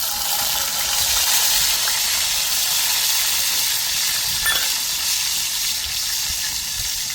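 Chopped garlic hits hot oil for a dal tadka and sizzles in a loud, steady, crackling hiss that holds evenly all the way through, with no voices over it.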